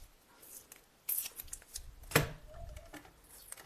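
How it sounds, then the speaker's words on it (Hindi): Insulating tape is pulled and wrapped over a wire joint while a fan regulator is wired into a switchboard, giving close, quiet crinkling and rustling with a few sharp ticks and one short tearing rip. "इसको टेप से आप ढक दीजिए"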